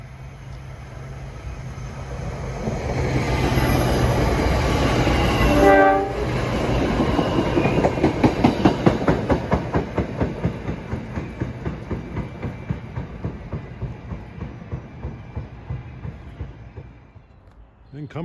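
An Arrow MU commuter train approaches Mountain Station on its way to Hoboken, sounding its horn as it draws near, then rolls past with a loud, steady clickety-clack of wheels that slowly fades.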